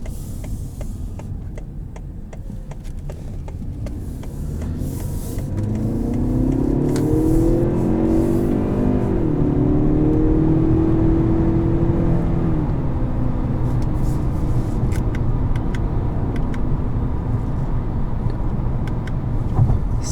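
A 2018 Lincoln MKZ in sport mode accelerates, its engine rising in pitch and swelling in loudness midway before settling into a steady drone, heard from inside the cabin with faint ticking clicks.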